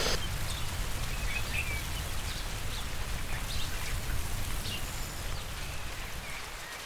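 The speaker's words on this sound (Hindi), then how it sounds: "धीरे धीरे बारिश अब बर्फ में बदलने लगी थी" Rain falls steadily on a winter trek toward Churdhar, a soft, even patter throughout, with faint bird calls scattered in the background.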